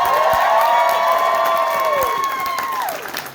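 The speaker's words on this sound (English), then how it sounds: "So let's give them a round of applause." A fan convention panel audience claps and cheers loudly for the guests, with a sustained whooping voice rising above the crowd before the noise tapers off.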